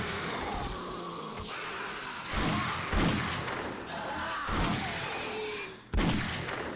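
Gunfire in the zombie survival video game 7 Days to Die: several sharp, loud shots a second or so apart, each rising out of a steady, busy in-game background.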